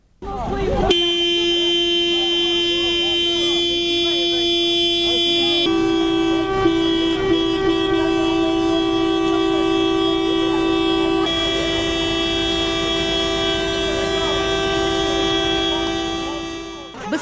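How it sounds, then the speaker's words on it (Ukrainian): Horns of cars stopped by a village protest in Antonivka, Ukraine, blare nonstop, several sustained honks overlapping loudly with shifting pitches, while voices murmur faintly underneath. "Безперервні реви клаксонів зупинених машин"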